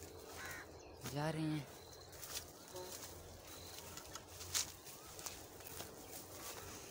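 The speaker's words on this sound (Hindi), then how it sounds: "यहाँ पे परिंदों की आवाज़ें बहुत मज़े की आ रही हैं" Birds call among the trees of a peach orchard, with a clear crow-like caw standing out over a faint outdoor background while someone speaks briefly.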